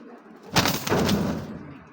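A restless racer pigeon flutters its wings in a loft, giving a single close, loud burst of flapping that lasts about a second amid low background noise.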